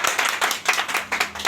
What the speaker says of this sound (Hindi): जोरदार ताली चाहिए